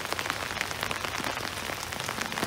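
Rain falls steadily on a pasture on a cold day, a fine dense patter of drops spread evenly throughout, soft and continuous with no voices.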